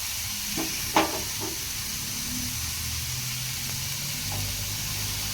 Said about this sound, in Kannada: ಇದು ಗೋಲ್ಡನ್ ಬ್ರೌನ್ ಆಗೋ ತನಕ ನಾವು ಫ್ರೈ ಮಾಡಬೇಕು